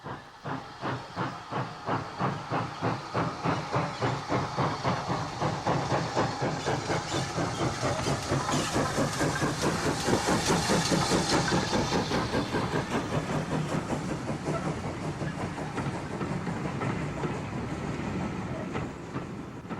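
Two Great Western Railway pannier tank steam locomotives of the later rounded-cab type run in 1965, with fast, even exhaust chuffs over a constant loud hiss and no voices.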